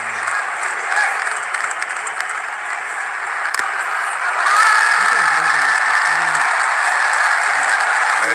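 The crowd at an India versus England T20 World Cup semi-final cricket match roars and claps as a continuous wall of noise, and it swells louder partway through.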